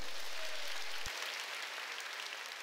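A church congregation applauds at a Sunday worship service, a soft, distant wash of steady clapping that sustains to the end.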